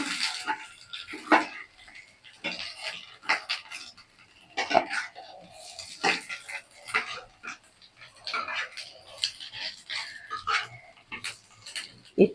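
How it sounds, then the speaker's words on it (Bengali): A knife cuts a folded fried egg into pieces with repeated irregular taps and knocks on a board, close and moderately loud. "ভাজ করে নিয়ে এবার পিস পিস করে কেটে দিচ্ছি"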